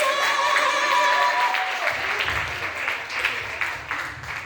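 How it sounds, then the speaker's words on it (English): An open-mic audience breaks into steady applause, many hands clapping close by. The clapping is loud at first and gradually thins toward the end. "Everybody, huge round of applause for Maria!"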